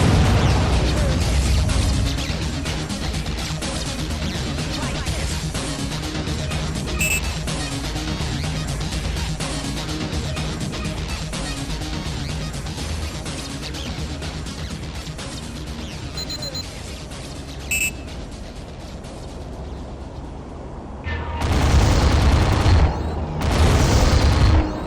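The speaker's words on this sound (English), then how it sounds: "that Gorgon is shooting live ammo." Heavy gunfire from a Gorgon firing live ammunition in the underwater video game Aquanox, a dense rumbling barrage of booms and bursts running continuously, loud and close, ending with a couple of louder blasts.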